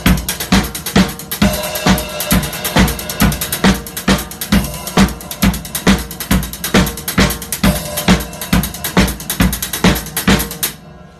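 Drum kit playing a 16th-note disco-style groove in 7, alternating a bar of 4/4 with a bar of 3/4; steady loud hi-hat sixteenths over kick and snare, close and alone without talk.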